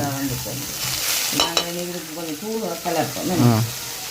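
Beetroot with salt sautéing in a pan for Jaffna-style beetroot varai, a close sizzle and scrape of stirring under a voice talking throughout.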